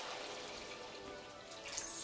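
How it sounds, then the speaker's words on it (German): A liter of water poured into a pasta bake, heard as a steady, close splashing wash of water that stays even throughout and swells slightly at the end. "Und jetzt geben wir hier den Liter Wasser zu."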